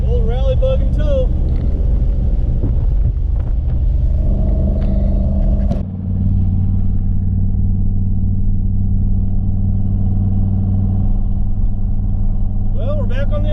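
A truck towing a trailer carrying the car Rallybug, engine droning low and loud inside the cab with a shift near the middle, talk over the start and end.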